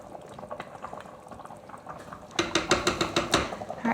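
Cheeseburger soup with soft potatoes and celery boils in a pot, giving a close, steady bubbling that grows louder and more rhythmic with repeated liquid pops partway through.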